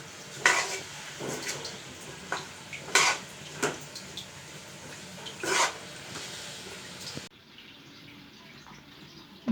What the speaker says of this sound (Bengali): তারপর আবারও ভালোভাবে নেড়ে চেড়ে নেওয়া হচ্ছে।